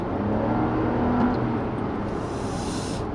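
A 2016 Lexus RX450h hybrid SUV pulls away from a stop, its engine and drivetrain giving a smooth, muted rising hum heard from inside the cabin, steady and fairly quiet throughout.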